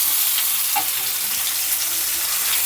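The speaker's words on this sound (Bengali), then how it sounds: "আমগুলো দিয়ে দেবো। আমটাও হালকা করে ভেজে নেব।" Raw green mango pieces frying in hot oil with tempering spices, giving a steady, close, even sizzle with a few faint stirring scrapes and no voices.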